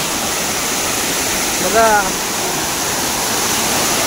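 A forest waterfall in the Konkan near Ratnagiri roars as a steady, loud, full rush of falling water, with a voice briefly heard over it.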